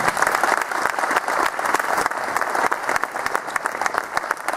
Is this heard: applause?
yes